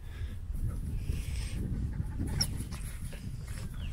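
A dog pants and faintly whimpers outdoors at a 4WD park in Queensland's Scenic Rim, steady breathy panting close to the microphone over low rumbling background noise, with no talking.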